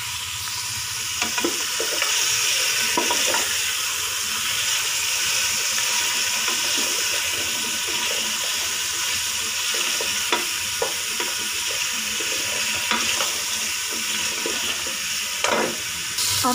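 Chicken pieces are fried with golden onions in a pan, giving a constant hiss of sizzling oil, with scraping and clattering stirring strokes at irregular intervals, close and loud.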